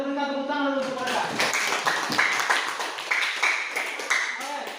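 A school class in Indonesia claps for a student group. A voice speaks briefly at the start, then scattered, irregular hand claps from several students follow and trail off.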